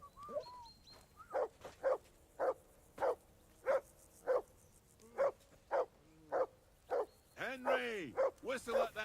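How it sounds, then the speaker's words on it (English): A dog barking in the video game Kingdom Come: Deliverance 2, a steady series of about a dozen sharp, evenly spaced barks with a few whines at the end, mixed in with game speech. "I assume you can hear that damn dog of yours barking."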